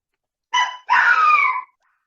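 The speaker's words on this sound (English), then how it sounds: "the puppy that we have at our house, we have 3 dogs and 3 cats" A puppy gives two sharp barks close up, a short yip followed by a longer, drawn-out bark with a whiny, howling edge, set against near silence.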